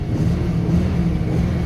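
A Rover P6 3.5 V8 engine runs in a steady, loud, close low rumble with a constant drone and no changes in pace.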